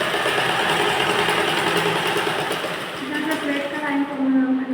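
A sewing machine stitching a blouse runs in a steady mechanical whir with a faint rapid clatter, continuous and close, while a voice talks over it.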